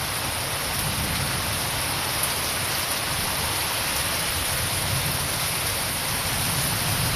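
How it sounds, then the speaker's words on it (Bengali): Heavy rain pours during a dark storm with a dense, unbroken hiss that stays even and loud throughout, and no voices are heard. "প্রচুর বৃষ্টি হইতেছে।"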